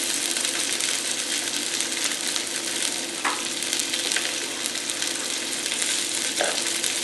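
Shallots and carrots sautéing on high heat for sweet potato vermicelli pancit with bacon, a dense, even, loud sizzle throughout with a couple of faint clinks from utensils.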